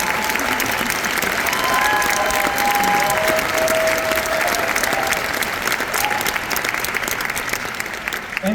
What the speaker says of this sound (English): But I'd like you to give a round of applause for the recipient of our Distinguished Young Alumni Award, Alex Burko.